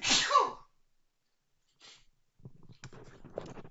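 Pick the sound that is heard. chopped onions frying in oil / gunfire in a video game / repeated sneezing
repeated sneezing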